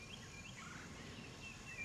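Wild turkey gobblers gobbling in spring woods, a faint, distant gobble or two over a steady low background hiss.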